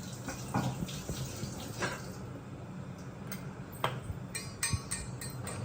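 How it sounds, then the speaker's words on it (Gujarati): Water is trickled into flour mixed with salt and turmeric while making vada pav batter. Soft splashes and pours come in short bursts with light clinks from the bowl between them, close and without talk. "લોટમાં મીઠું, પાણી અને હળદર નાખવાની છે"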